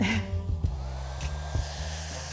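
A hair dryer blows paint for an artist who works with pots and a straw instead of brushes. It gives a steady close hum with a low motor drone, broken by a few soft knocks and clicks.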